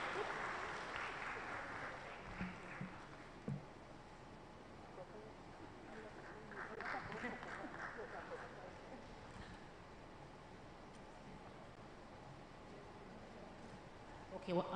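Audience applause at a live national dialogue event on clean cooking energy, a broad crowd clapping that swells early, fades, and returns around the middle, steady and fairly close over a faint background.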